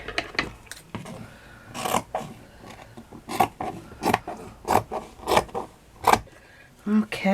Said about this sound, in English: now what I'm going to do is to cut this straight